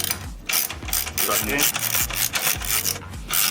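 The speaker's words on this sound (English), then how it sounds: "I'm going to go ahead and grab my ratchet with my extension" A ratchet with an extension clicks in quick bursts while tightening race rail bolts on a 2022 Kawasaki ZX6R, a close, loud rhythmic ratcheting with short pauses between strokes.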